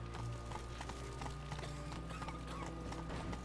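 Horse hooves clip-clop steadily in The Witcher 3, with the horse Roach trotting along a road under a continuous game soundtrack and ambient hum, the rhythm clear and close.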